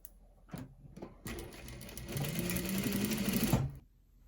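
A sewing machine top stitches the folded edge of sweat shorts, a few hesitant starting stitches then a steady rapid whirring run of a couple of seconds, close and clear before stopping.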